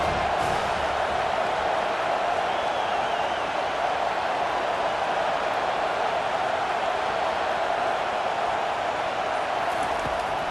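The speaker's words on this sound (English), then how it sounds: "Decibels rising as the crowd gets behind this defense on 3rd down." Dense stadium crowd roar from a college football video game on third down, a steady broad wash of noise that stays loud and sustained throughout, with no distinct voices standing out.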